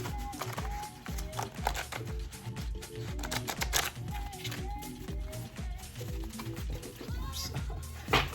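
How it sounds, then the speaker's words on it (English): Matte-finish tarot cards are shuffled repeatedly up close, a rapid run of soft flicking riffles and taps with brief pauses between bursts. "These are kind of hard to shuffle, these cards."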